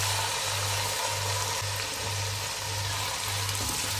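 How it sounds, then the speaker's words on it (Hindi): Tomatoes go into a hot, spiced tempering frying in a pan for egg pulao, giving a steady close sizzle throughout, with a low rhythmic hum running underneath. "तड़का हमारा तैयार हो गया है, खुशबू अच्छी सी आ रही है। अब इसमें हम टमाटर डालेंगे।"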